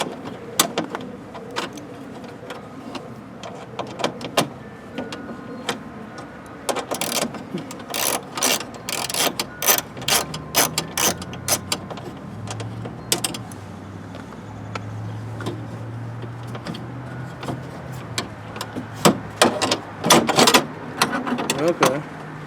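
A ratchet fitted with a star bit loosens the door handle on a 2008 Chevy Equinox, producing bursts of sharp, close clicks and metallic rattles in uneven runs, with low murmuring underneath.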